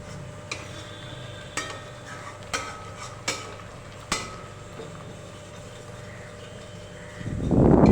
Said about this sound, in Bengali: এবার মশলাটি ভালো করে কষিয়ে নিতে হবে যতক্ষণ না মশলাটি থেকে তেল ছাড়ছে